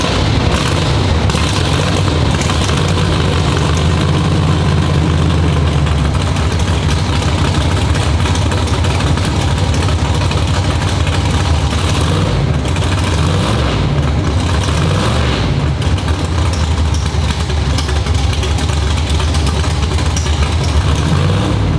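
A 1000 hp Hellcat-powered Foxbody Mustang street car with full exhaust runs loud and close, a deep, booming, continuous engine rumble that holds steady for over twenty seconds without a break.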